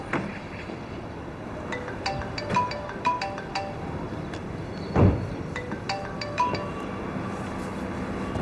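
A mobile phone's ringtone plays a repeating pattern of bright chiming notes, fairly soft and unanswered, with one louder knock partway through. No one speaks.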